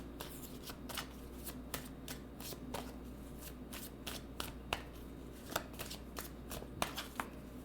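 Tarot cards being shuffled and drawn, giving a steady run of crisp riffling flicks and soft slaps at a quiet level over a low constant hum, with no talking.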